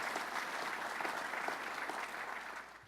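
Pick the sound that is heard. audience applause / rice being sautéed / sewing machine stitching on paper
audience applause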